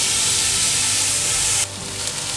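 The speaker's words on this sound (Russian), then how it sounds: "Добавляем масло и в первую очередь отправляем лук." Onion sizzles loudly in hot oil, a bright crackling hiss that drops suddenly in intensity partway through, with no talking.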